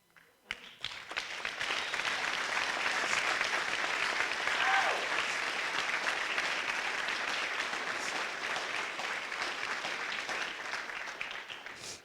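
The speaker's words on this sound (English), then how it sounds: "give a round of applause for getting this far" A graduating class at a school graduation ceremony applauds, a steady wash of clapping that starts after a brief pause and holds evenly for more than ten seconds.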